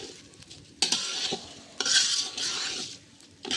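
Rice being sautéed in a pot, a utensil scraping and stirring through the grains in several strokes with a light sizzle underneath, close and fairly loud with no talk.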